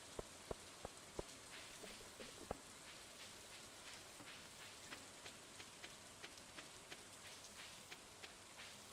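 Rain falls steadily in the Stardew Valley video game, a soft, even patter broken by light, regular ticks of drops, faint and without talk.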